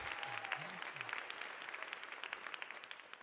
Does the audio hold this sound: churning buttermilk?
no